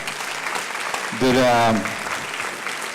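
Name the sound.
audience applause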